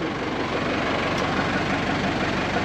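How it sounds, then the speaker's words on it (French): A Mercedes six-cylinder engine in a 4x4 expedition truck idles steadily, a continuous low rumble with an even, rapid pulse throughout, close and fairly loud with no talk. "Ah, le moteur. 6 cylindres Mercedes."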